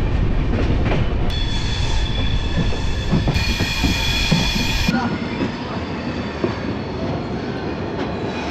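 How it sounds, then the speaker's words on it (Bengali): A train rolls into New Bongaigaon junction in Assam, a loud, close rumble with high wheel squeals and a metallic ringing tone over the clatter, softening somewhat toward the end. "আমাদের ট্রেন কিন্তু এখন নিউ বনগাঁও জংশনে ঢোকালো।"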